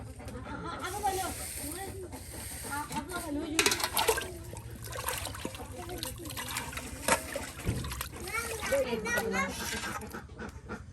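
Cut chicken pieces are washed in water in a rural village kitchen, with soft intermittent splashes and trickling, heard under a voice and other talk.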